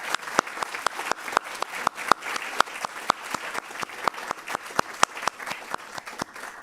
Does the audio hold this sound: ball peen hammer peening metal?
no